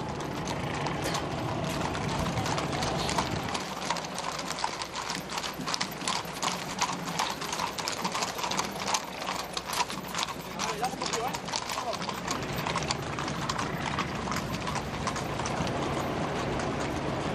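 Hooves of the mounted Royal Guard escort clip-clop in a dense, rhythmic stream on pavement during the National Day parade in Madrid, loud and continuous, with a commentator talking over them.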